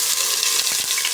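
Onion and garlic hit hot cooking oil in a pan while sautéing mixed vegetables with shrimp, giving a loud, steady sizzle and crackle that holds for the whole moment with no talking.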